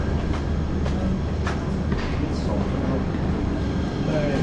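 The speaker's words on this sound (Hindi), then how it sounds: "चलिए आप लोगों को दिखाता हूँ, सामने ट्रेन खड़ा है।" A passenger train, the Guwahati–Sairang Express, standing at Sairang station: a steady low rumble and hum with faint clicks and clanks, loud and continuous, without clear speech.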